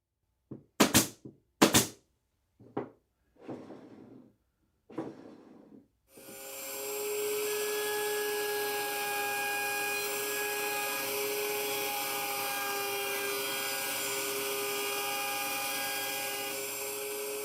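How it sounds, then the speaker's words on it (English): A few sharp knocks and clatters come first, then a router table spins up into a loud, steady high-pitched whine as it cuts a rabbet into a wooden drawer retainer. The whine runs unbroken for over ten seconds, close by, with no talking. "I need to cut a rabbet in the retainer that goes on the back and give me enough clearance. And again, I'm doing that on the router table."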